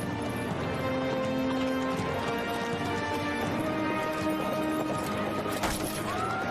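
Horses' hooves clop over ground at a jousting event amid a busy outdoor crowd murmur, with a brief neigh and a sharp crash partway through.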